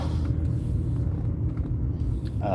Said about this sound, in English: when you hear me driving around during streams, you probably realize that this car does not sound like the Ute